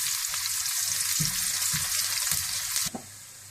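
Whole cumin seeds and garlic fry in hot oil for a moong masoor tarka dal, giving a close, bright, steady sizzle with soft stirring knocks throughout and a sharp clatter near the end.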